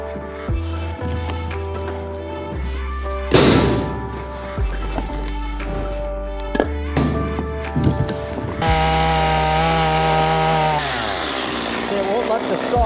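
Chainsaw cutting firewood outdoors in an Alaskan winter, its engine droning steadily with revs rising into louder bursts as it bites into the wood, amid thuds and knocks, with a voice speaking briefly.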